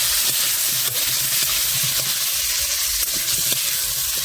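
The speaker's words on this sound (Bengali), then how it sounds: "আলুগুলো হালকা করে বেজে নেওয়া হচ্ছে" Cut potatoes frying lightly in hot oil for an eel fish curry, a constant close sizzle with occasional soft clicks of stirring, steady and fairly loud, with no talking.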